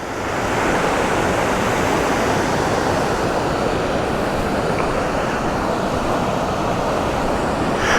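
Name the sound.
waterfall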